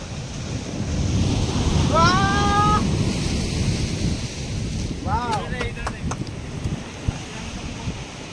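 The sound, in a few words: sea waves surging on Arjyapalli beach, Odisha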